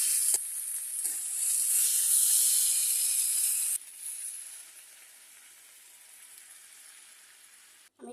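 Raw papaya tossed into a hot pan for an egg curry sizzles loudly at first, with a brief stirring scrape, then settles into a softer, steady hiss that fades lower after a few seconds.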